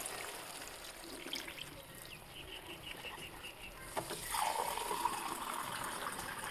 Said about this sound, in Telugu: నేనైతే వాటర్ తగినన్ని పోస్తున్నా.